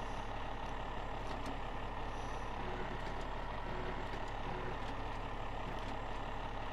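Wrecker truck driven in the Snowrunner game on PS4, a steady low engine drone that holds loud and constant throughout, with faint intermittent beeps above it.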